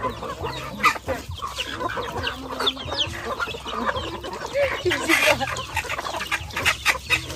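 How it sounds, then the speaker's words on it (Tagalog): Chickens cluck and squawk close by in a rural yard as the last bird is caught, agitated calls coming in irregular bursts with rustling and scuffling throughout. "pipiliin na ni Arap yung ating huling manok"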